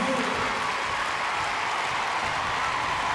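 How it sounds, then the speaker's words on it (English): Crowd applause in an arena during a gymnastics World Challenge Cup uneven bars routine, a steady broadband patter of clapping held at even loudness throughout, with no voices on top. "Wonderful support from the crowd."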